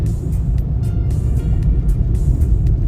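Inside Redzen's car while driving, a steady loud engine and road rumble runs continuously, with no voices over it.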